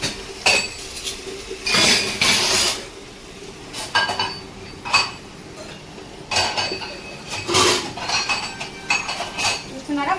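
Plates, pots and steel vessels clatter and clink while being washed in a home kitchen, with repeated loud bursts of metal knocking and scraping in an uneven rhythm, close by.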